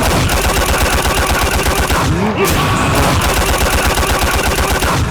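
The Muda Stampede punch barrage in a video game: a dense, loud machine-gun-like stream of rapid punch impacts that pauses briefly midway with a swooshing sweep, then resumes at full intensity.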